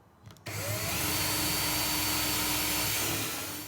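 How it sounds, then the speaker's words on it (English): A power drill with a small bit drilling pilot holes in a pedalboard case whirs up after a short click and runs steadily at high speed, loud and close, holding a constant whine before easing slightly at the end. "I'm going to take the drill and a small little drill bit"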